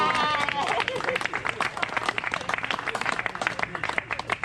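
Wedding party guests applauding, a dense burst of many hands clapping close by with crowd voices mixed in throughout.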